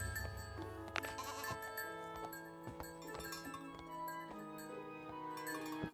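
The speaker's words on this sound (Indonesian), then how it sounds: "Wow, ini kambing." Goat bleating at a crowded animal park, repeated calls over a dense backdrop of other animal cries and ambient noise, with no speech.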